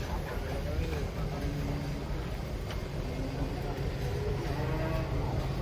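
A restless cow is unloaded from a truck and led down, its low drawn-out moos rising through a dense, continuous wash of engine-like rumble and background noise.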